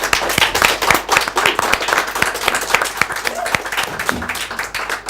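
An audience applauds a rock band on the stage of a TV show, with dense, loud hand clapping that carries on without a break and a few scattered cheers in the crowd.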